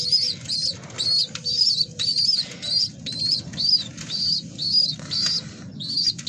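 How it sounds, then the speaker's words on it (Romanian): Pigeons coo in a steady repeating rhythm with soft chirps, wings flapping now and then, over a low rumbling background; no voices. "Da, sunt la porumbei"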